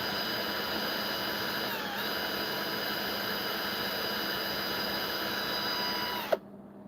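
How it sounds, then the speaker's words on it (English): A power drill bores across a small rectangular metal part during lock work. It gives a steady, loud whine with a slight pitch dip midway, then cuts off abruptly near the end. "Drill across the rectangle bit here until we get it free."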